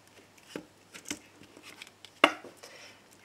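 A deck of tarot cards is cut on a table, giving a handful of soft, scattered card slaps and shuffling taps, with one sharper snap near the end, all quiet and close.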